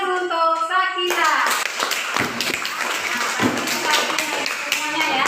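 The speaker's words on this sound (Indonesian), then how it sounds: "Ya, silakan duduk, tepuk tangan untuk Sakina." A class of primary school pupils claps for a classmate who has just answered at the front of the room, a brief burst of close, dense clapping that follows an adult's spoken instruction.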